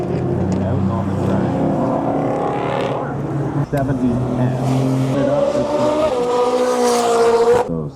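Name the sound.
cars running down the Canadian Tire Motorsport Park track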